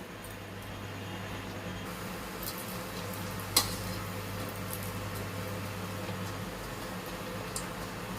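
Nimki dough pieces frying in hot oil give a soft, steady sizzle with a brief sharp clack partway through, otherwise even and moderately faint with no talking.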